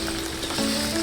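Spicy pork humba crackles and sizzles loudly and continuously in its own rendered fat as it is stirred in a pan.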